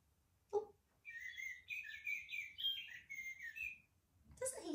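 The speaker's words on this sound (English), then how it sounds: "Now I'm having a little look down here and I can see a blackbird." A blackbird sings a long, fluid phrase of warbling whistled notes, clear and fairly close, with a short sound just before and a brief noise at the end, no talk over it.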